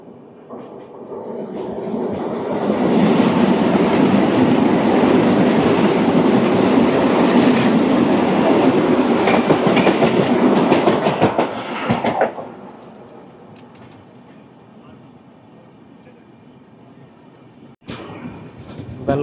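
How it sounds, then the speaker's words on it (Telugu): Weekly express train from Secunderabad to Shalimar rushing through Eluru station, a loud sustained roar of wagons and clattering wheels for about twelve seconds, then dropping to a quieter rumble as it moves off. "ఇప్పుడు వెళ్ళిపోతున్న ట్రైన్ వచ్చేసి 22850 సికింద్రాబాద్ టు షాలిమార్ వెళ్ళే ట్రైన్."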